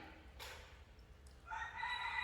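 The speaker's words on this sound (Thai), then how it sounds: "ไก่ขัน" A rooster crows once in the distance, a faint thin call that starts partway through over quiet background.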